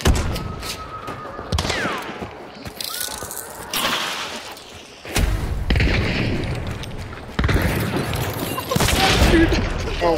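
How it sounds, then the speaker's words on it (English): Flashbang and gunfire in a shooter video game, with several loud sharp bursts and booms spread through the scene over game sound effects, and a voice talking briefly. "that flashbang got me too"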